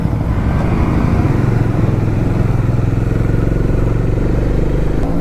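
Four motorcycles, an Indian Scout and an Aprilia RS 457 among them, pull away together on a Sunday group ride, making a loud, steady, close engine drone with a low rumble that continues throughout.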